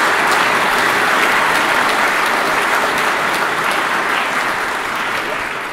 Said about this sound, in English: So please give me a round of applause to the hard work of those 20 chairs.